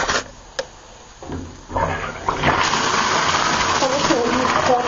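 Cold water from a tap gushes into a bathtub as a dog is washed, starting after a few clicks and knocks and building into a steady, loud rushing stream.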